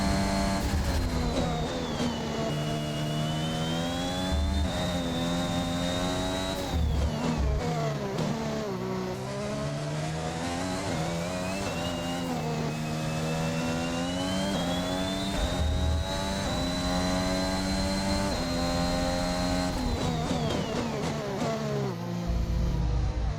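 Formula 1 race car lapping the Portugal circuit in the F1 21 video game during qualifying, a loud, high-pitched engine whine that climbs and falls steadily through gear shifts and corners, continuous and close throughout.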